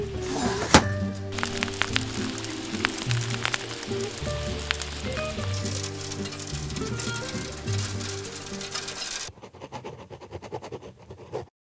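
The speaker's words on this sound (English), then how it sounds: "this is the worst hail I've seen!" Hail pelting the roof of a narrowboat in a cold spring storm, a dense steady clatter of impacts with a few sharp knocks, loud and close, fading abruptly near the end.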